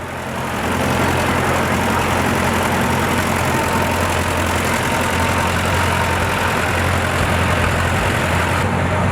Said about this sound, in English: Coming down through there now is a 1956 Case 400